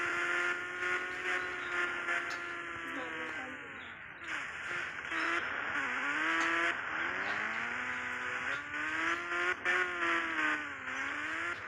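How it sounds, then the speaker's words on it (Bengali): A motorbike engine runs close by, a steady buzzing drone whose pitch rises and falls repeatedly as the rider opens and eases the throttle. "এই তো আমার কোটি টাকার বাইক চলতেছে"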